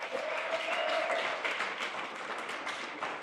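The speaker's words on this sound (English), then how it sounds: "How about a nicer round of applause?" Applause from a gala audience at a cocktail celebration in Newark, a broad, steady wash of clapping across the whole moment, with a faint tonal whistle or voice line early on.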